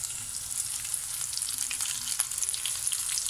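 Flour-dredged anchovies frying in hot oil, Akçadağ style, give a dense, crackling sizzle with steady popping, close and continuous with no voices.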